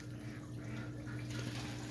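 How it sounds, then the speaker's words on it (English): Pond filter by a bird nest box runs with a steady trickling, bubbling water flow over a low constant hum, continuous and fairly faint with no pauses. "So the filter's still been running"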